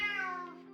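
A cat in the game RimWorld gives a single clear, tonal meow that rises and then fades out over less than a second, heard alone without any talking.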